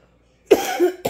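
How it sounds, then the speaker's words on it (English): A single morning cough, close and fairly loud, with a short second burst just after. "have my morning cough"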